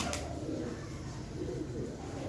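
A pet pigeon, the hen that laid four eggs, coos softly and continuously at a low level, its murmur steady and fairly close throughout.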